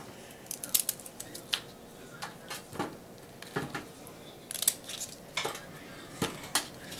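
A knife trims the ends off large Brussels sprouts, giving sharp, separate clicks and taps on a board at an uneven pace, close and fairly quiet.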